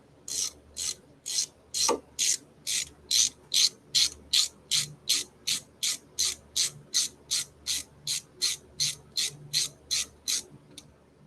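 A ratchet tightens the bolts on a disc brake caliper, giving a close, steady train of about two dozen rasping clicking strokes at roughly two per second.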